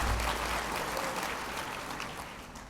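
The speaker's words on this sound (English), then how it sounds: "Yeah, you can clap." Audience at a women's leadership event clapping together, a dense even patter of applause from a seated crowd that tapers slightly as it goes on.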